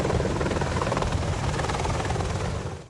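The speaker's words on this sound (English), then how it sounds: "British Apache helicopters on the HMS Ocean prepare to go into action over Libya." British Apache attack helicopters aboard HMS Ocean, heading into action over Libya, produce a loud, continuous rotor and engine roar that stays steady and close throughout before easing slightly at the end.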